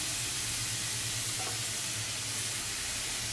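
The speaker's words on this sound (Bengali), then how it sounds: "খুব ভালো করে আমি মেশাবো" Vegetarian papaya curry with raisins is stirred and mixed in a pan over the stove, giving a steady, dense sizzling hiss with faint scraping underneath, close and continuous.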